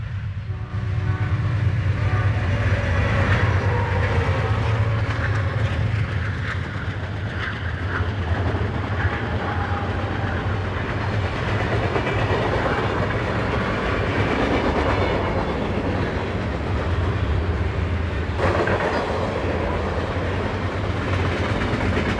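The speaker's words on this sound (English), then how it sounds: "Southern Pacific next heads a freight westbound on shared trackage" A Southern Pacific freight train hauled by steam on shared trackage heading westbound, rumbling steadily and loudly close by for the whole stretch, with a constant low roar, rolling wheel noise and horn-like tones.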